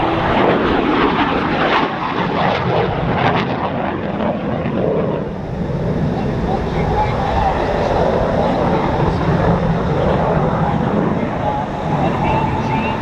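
A military jet roars through a maneuver at the Wings Over Meridian airshow, a loud, sustained engine rumble that shifts slightly in tone as it passes overhead.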